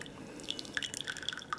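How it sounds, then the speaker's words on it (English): Slow pour of tea into a gaiwan, a thin trickle with light dripping and splashing that stays soft and close for under two seconds. "With that technique, that little slow pour right there."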